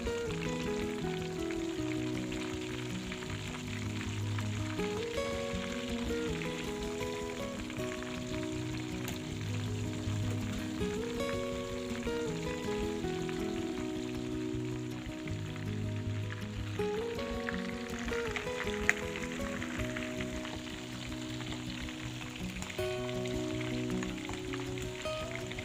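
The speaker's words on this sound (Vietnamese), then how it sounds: "Chiên cho cánh gà chín nha." Chicken wings fry in hot oil for a fish-sauce glazed dish, giving a steady, quiet sizzle that runs throughout beneath soft background music.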